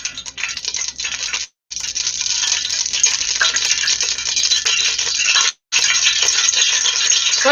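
Food sizzles in a frying pan on the stove, a dense, steady crackle with fine popping that runs almost throughout and drops out briefly twice. No voices.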